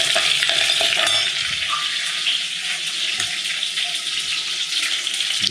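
Fenugreek seeds sautéing in a pan of oil for fish curry, a steady broadband sizzle with faint stirring scrapes, close and continuous with no one speaking.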